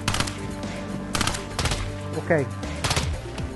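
Bursts of gunfire ring out in a Call of Duty Warzone match, several sharp volleys spaced through the moment while a player briefly speaks.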